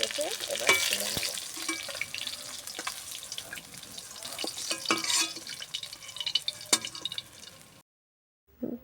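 Fried pangas fish lifted out of hot oil: steady sizzling with clinks and scrapes from the utensil against the pan, ending in a brief silence and a short burst of sizzle.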